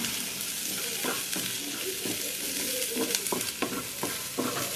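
Onions frying in coconut oil in a clay pot: a steady close sizzle with intermittent scraping and clacking stirs.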